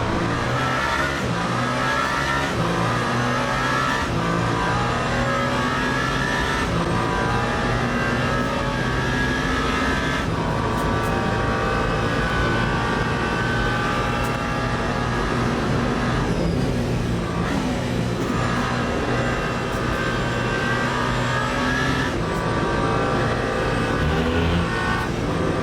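Onboard engine of the number 8 Toyota prototype race car in the Le Mans Ultimate racing game at the 24 Hours of Le Mans, a loud continuous roar rising and falling with gear changes and throttle through the Porsche curves.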